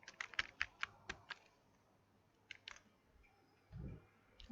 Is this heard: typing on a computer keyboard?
yes